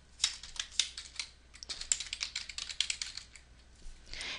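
Rapid typing on a computer keyboard as a username is entered, a close, steady patter of key clicks with short pauses and a few louder strokes, with no voices.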